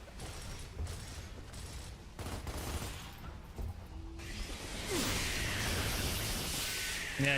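Gears of War played on PS5, with rapid bursts of video game gunfire, impacts and whooshes building into a dense, loud barrage toward the end.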